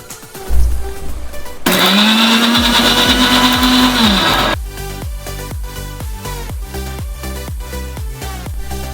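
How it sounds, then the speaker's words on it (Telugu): A kitchen mixer grinder whirs loudly for about three seconds as it grinds cooled cooked spinach into a paste for palak corn curry, then stops abruptly, leaving rhythmic background music. "చల్లారిన పాలకూరని మిక్సీ జార్లో యాడ్ చేసి గ్రైండ్ చేయండి"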